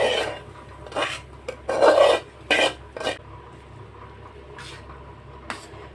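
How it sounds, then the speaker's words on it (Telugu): Fried tempering is mixed into cooked rice: a spoon scrapes and rasps against the vessel in short, uneven bursts with quiet gaps between them, close and fairly loud, with no talking. "తీసి అన్నంలో కలుపుకోవటం."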